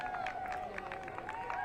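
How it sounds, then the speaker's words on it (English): A crowd gathered at an airport cheers and claps for Vice President Vance, a busy mix of distant voices and applause, with a talking voice over it. "they're cheering for the Vice President"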